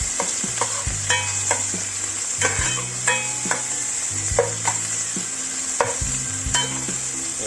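Chopped onion sizzles steadily in a frying pan while a utensil scrapes and taps against the pan in repeated strokes, close and continuous, with no talking.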